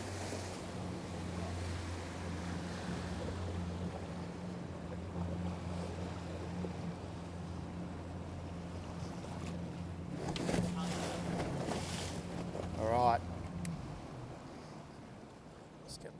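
A Yamaha F50 outboard motor converted to F60 hums low and steady at idle, with wind and water noise around it and a brief higher whine near the end.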